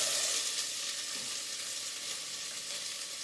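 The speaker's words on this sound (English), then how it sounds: "we're going to just add our onions so that that can start working" Chopped onions frying in hot coconut oil in a pan on the stove, giving a soft, steady sizzle and hiss that is faint and continuous, with no talk.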